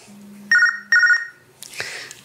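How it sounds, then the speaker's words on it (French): A telephone rings twice in a kitchen during a creamy pasta salad demonstration, two loud electronic trilling bursts followed by a brief clatter, with no talk over the rings. "Oh, téléphone."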